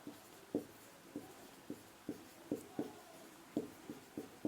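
Handwriting by pen during a Class 12 physics lesson: about a dozen short, distinct scratchy strokes in an uneven rhythm, fairly close and soft, with no speech over them.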